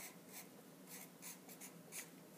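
Handwriting close up, soft scratchy strokes in short bursts of a pen or pencil moving across paper, faint and quiet with no talk.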